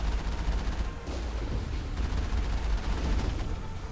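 Dense, continuous weapon fire and booming impacts from a Mass Effect firefight against a large enemy, loud and sustained without a break across the whole moment, with no speech over it.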